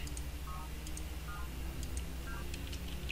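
A telephone dials in the video game Alpha Centauri, a quick series of short touch-tone beeps heard clearly over a steady background hum.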